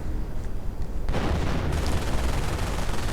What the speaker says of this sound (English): MG42 firing away, suppressing the riflemen